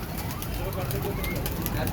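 Teddy pigeons coo softly amid a busy, noisy rooftop background in Shahdara, Lahore, their low murmuring calls continuing steadily throughout.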